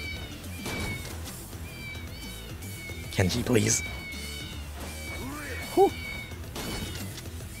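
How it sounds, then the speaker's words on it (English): Cat meows from the Mew shoes item in Yakuza 0, a couple of short squeaky mews that sound with footsteps amid game noise and music, while someone talks. "Anytime you take a step with them equipped, they make that really annoying cat sound."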